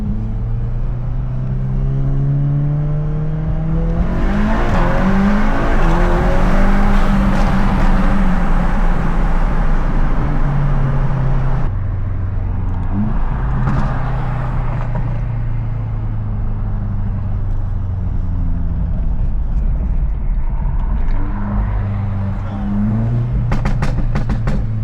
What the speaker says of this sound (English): The stock turbo in this car is really, really responsive.